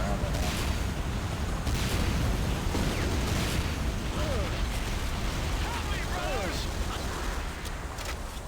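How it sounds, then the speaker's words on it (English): Rocket launcher rounds raining down and exploding in the game Renegade, a dense continuous barrage of booms, bursts and crackling blasts, loud and close, with voices talking over the din. "Rocket launcher ammunition coming down"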